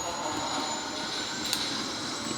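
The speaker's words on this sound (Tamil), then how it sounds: "இப்போ ஹெலிகாப்டர் நானாக தூக்கிக்கணும்னு நினைக்கிறேன்" Helicopter rotor and engine drone in the video game Granny Chapter Two as the craft lifts off, a steady loud whirring wash that holds even throughout with no talking over it.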